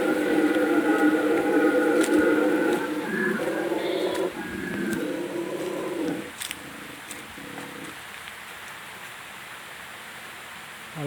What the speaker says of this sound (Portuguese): É os bugios que tem aqui ao lado da minha casa, numa matinha que eu tenho aqui no córrego.